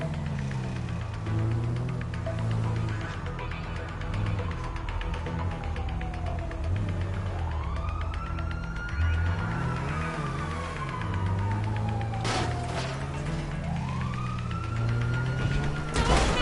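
Wailing police sirens in the video game GTA V rise and fall in long sweeping cycles over a rumbling car engine, loud and continuous throughout the chase.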